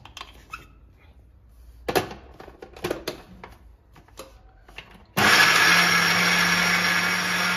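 A kitchen mixer grinder blending Indian gooseberry (amla) with a little water. Scattered handling knocks come first, then the motor starts abruptly and runs at a loud, steady whine to the end.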